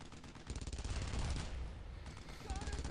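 An enemy machine gun in a World War-style shooter video game fires in rapid sustained bursts, a dense rattling clatter that swells and fades, heard at moderate distance with game ambience underneath.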